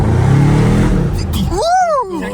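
A car engine revving hard as it accelerates, loud and close, a rising then falling whine in the second half after a dense rumbling start, with voices audible alongside.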